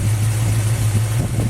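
A small-block Mopar V8 in a Plymouth Duster idles at a steady, even low hum with a constant loud drone and no changes in pitch.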